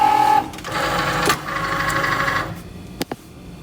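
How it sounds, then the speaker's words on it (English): Cricut Maker cutting machine loading material after a button press, a short beep followed by a steady mechanical whirring motor run and a couple of small clicks at the end, close up with no talking. "we're going to come down here to the Cricut and push our load button."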